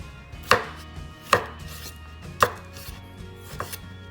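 Knife chopping fresh garden tomato on a cutting board for beef sinigang, four sharp, evenly spaced cuts ringing out close and clear over faint kitchen background.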